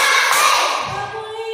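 A class of students clapping their hands together as part of a rhythmic clap game in a classroom, a burst of sharp group claps up front that fades as voices carry on underneath.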